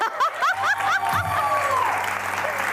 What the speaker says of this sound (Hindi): आपकी बहुत सारी तालियां बुला रही हूँ हुमैरा नाज को